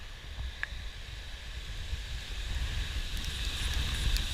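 Strong gusty wind during Hurricane Matthew, a steady low rumble and roar of air that swells gradually louder, with faint rustling on top.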